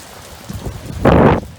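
Hurricane Ian storm with heavy rain and wind, a steady rushing roar that swells into a loud, dense gust-driven burst before easing back.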